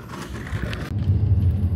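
Low engine rumble with faint rattling fills a vehicle interior, a short steady drone with no clear voices.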